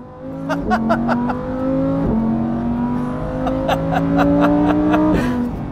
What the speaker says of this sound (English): I'm not supposed to be drifting a Lamborghini around the racetrack